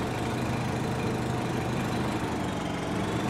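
Lawn mower engine in the video game Farming Simulator 17, likely one of the John Deere or Walker mowers, a steady idling drone with broad mechanical noise, constant and alone with no talk.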